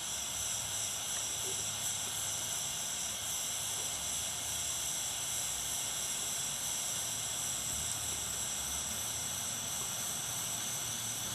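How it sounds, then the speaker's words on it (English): A gas torch burns with a neutral flame while heating flux on a metal jewelry bail, a steady unbroken roaring hiss lasting throughout with no speech. "So I've got a neutral flame. We'll just gently warm this up until our flux dries out."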